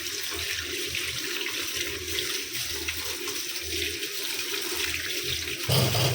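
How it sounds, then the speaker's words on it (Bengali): Tap water runs steadily into a sink while vegetables are washed in a home kitchen, a loud continuous splashing stream with a brief change in flow near the end. "এই যে সবজিটা ধুচ্ছি"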